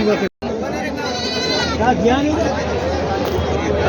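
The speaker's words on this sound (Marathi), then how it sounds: "तीन बकरी आहेत" Goats bleat close by in drawn-out, wavering cries over a busy background of people talking and general crowd noise at a goat market in Maharashtra.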